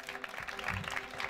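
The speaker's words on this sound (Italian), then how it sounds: "al quale tributerei un bel applauso per il lavoro svolto" An audience at the regional Tuscany final of a beauty pageant in Marina di Pisa breaks into a brief burst of applause, a short dense patter of clapping heard up close with some voices mixed in.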